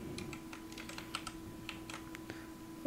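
Faint, quick keystrokes on a computer keyboard carry Ctrl+A select-all, copy and paste shortcuts while coding a login form, scattered soft clicks over a low steady hum, with no speech.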